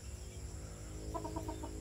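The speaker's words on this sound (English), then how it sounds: "Our chickens are eating the bugs that eat the leaves." Free-ranging backyard chickens on a Philippine island forage for leaf-eating bugs, giving a quick run of soft, close clucks over steady outdoor background noise.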